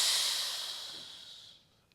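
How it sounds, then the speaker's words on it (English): A long, breathy exhale during a pilates side stretch on a mat, close and soft, hissing out steadily before fading away at the end. "exhale over to the side"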